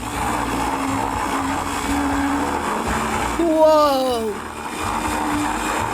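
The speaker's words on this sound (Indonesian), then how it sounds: "Sekarang kita taruh masing-masing ke dalam blender dan kita hancurkan." A blender whirs steadily as it crushes ingredients into crumble for a colourful dessert, with a loud, close motor drone throughout and a brief whoop of a voice in the middle.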